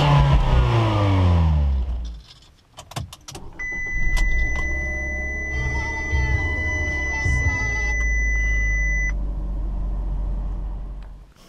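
A Fiat 500 with a 1.4-liter four-cylinder MultiAir engine starts and revs repeatedly, the engine note climbing and falling in loud, close bursts before settling into a steady idle, with no talking.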